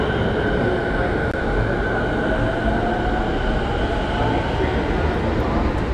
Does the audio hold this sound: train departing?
yes